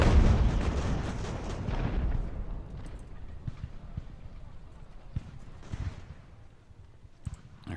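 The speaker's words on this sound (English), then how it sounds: "here come the mortars now" Mortar fire in the naval battle game Ultimate Admiral Age of Sail, during a raid on Nova Scotia: a dense rumbling barrage at first that thins into scattered dull booms and thuds over several seconds, with no talk.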